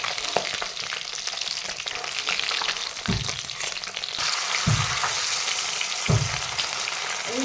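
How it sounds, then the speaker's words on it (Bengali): Pabda fish frying in oil crackles and sizzles steadily at close range, with a few soft thumps as the pieces are moved in the pan. "এইভাবে বাকি মাছগুলো ভেজে নিচ্ছি।"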